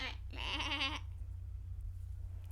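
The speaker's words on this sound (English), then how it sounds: "Goats were coming through in search of snacks and hay." Goats bleat, one wavering call up close and fairly loud, then a low steady hum continues with no other sounds.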